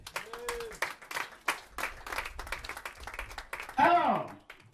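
A church congregation applauds to acclaim God: scattered clapping builds with a few voices calling out among the hands, then rises to a louder cheer toward the end.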